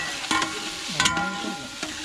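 Masala with turmeric and fried chillies is stirred in a hot pan for a Trivandrum dum biryani, a steady close-up sizzle with a few sharp scraping strokes of the spoon.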